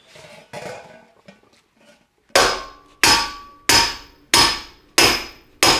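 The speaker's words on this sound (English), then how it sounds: "And then you get those good hammer marks." After a few soft taps, a hammer strikes a handmade cymbal six times at an even pace, each loud metallic hit ringing out and fading before the next.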